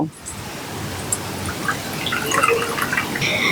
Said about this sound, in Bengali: যেটুকু চিনি নিয়েছি সেই সম পরিমাণ জল আমি এর ভিতরে দিয়ে দেব